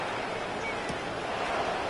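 Heavy rain pours down on an outdoor football game between the Texans and Jaguars during a punt, a dense steady hiss of broadband noise filling the whole stretch with no voices.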